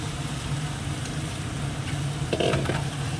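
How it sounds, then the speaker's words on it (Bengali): A spice mixture sautéing in a pan, a steady close sizzle with a few scraping stirs near the end. "এবার এটাকে ভালো করে একটু কষিয়ে নেবো"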